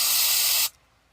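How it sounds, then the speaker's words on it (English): Non-aerosol hairspray from a pump bottle gives one loud, sustained hissing spray that cuts off abruptly, followed by near silence. "Because it's hairspray, it's just non-aerosol. It comes in the pump bottle."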